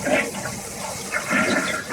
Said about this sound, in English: so there's our toilet flush